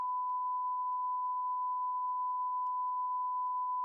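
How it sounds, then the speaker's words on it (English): A censor bleep masking speech on a beer podcast: one steady, unbroken pure tone held for about four seconds at moderate level, with nothing else audible. "You just have to beep that whole thing."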